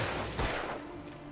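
Gunfire from the video game Alan Wake, a short burst of shots with a sharp crack near the middle, fairly faint and quickly fading.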